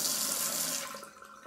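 Water runs steadily from a tap into a sink, a loud, close rushing stream that eases off and thins toward the end, with no talk over it.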